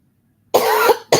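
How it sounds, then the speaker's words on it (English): A woman coughs during a live online talk: one sharp, harsh cough burst lasting about half a second, then a second one starts, loud and close, with silence before it. "Y'all will hear me cough and all that good stuff throughout our live."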